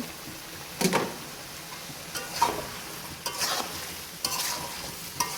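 Potatoes and cauliflower tumble into a hot pan with fish, bursting into a steady sizzle, followed by a few scraping stirs that clatter at intervals over the continuous frying hiss.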